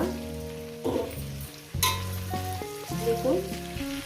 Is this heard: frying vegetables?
yes